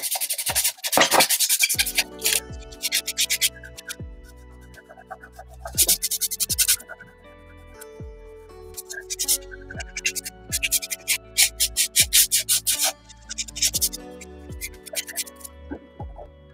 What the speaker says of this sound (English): Alright. I'm sanding done.